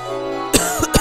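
A person gives two or three short, sharp coughs in quick succession over a quiet, steady musical tone in the background.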